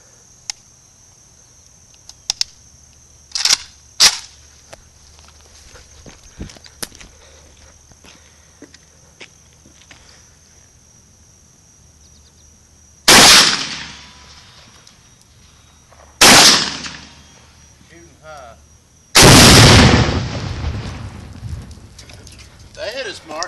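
Three loud, sharp bursts of AK-47 rifle fire ring out in close succession, each with a long ringing decay, after a stretch of quieter handling noises and scattered knocks.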